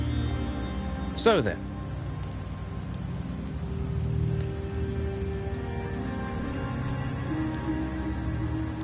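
Steady rain falls in Septimont within the video game Wuthering Waves, a continuous soft hiss under low ambient tones, with a brief sweeping game effect near the start and a short spoken phrase.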